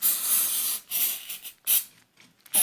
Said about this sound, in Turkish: Yeniden bir sprey daha sıkacağız.